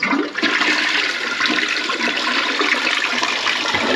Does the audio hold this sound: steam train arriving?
no